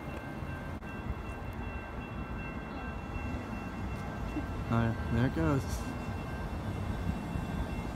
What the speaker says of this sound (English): Sad little train.